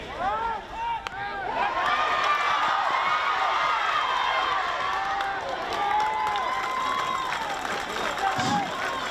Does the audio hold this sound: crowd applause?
yes